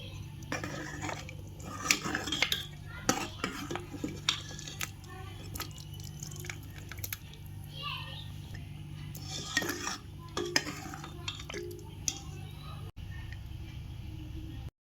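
Spoon stirring village-style mutton kulambu curry in a metal pot, faint scraping and clinking against the pot with soft wet squishes over a low background hum, scattered irregular knocks.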